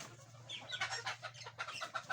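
Hens cluck softly in a few quick bursts, faint and somewhat distant, over a low steady hum with no talk.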